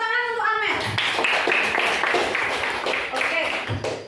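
A classroom of schoolchildren clapping for a classmate, a burst of many hands close by that starts after a brief voice and runs steadily to the end, with children's voices mixed in.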